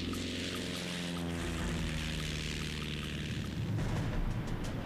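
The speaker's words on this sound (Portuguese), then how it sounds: "Agora, uma esquadrilha de 8 Swordfish voa em direção ao Bismarck." Swordfish biplane torpedo bombers drone overhead, a loud steady propeller engine hum with shifting pitch as the planes pass.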